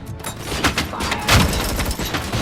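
Gunfire in the Robocop: Rogue City video game on PS5, a loud dense burst of rapid shots and booms with heavy low thuds throughout.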